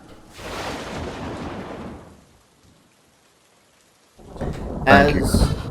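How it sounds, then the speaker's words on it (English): A thunderstorm with rain plays as a sound effect, a loud rumbling roar of thunder and rainfall that fades into near silence for a couple of seconds before a second, sharper crash of thunder bursts in with heavy rain. "As the storm begins to swirl"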